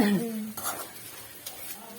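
A spatula scrapes and stirs grated coconut and cumin frying in a pan, with a faint sizzle underneath. A voice is briefly heard at the start, then soft, quiet kitchen clatter.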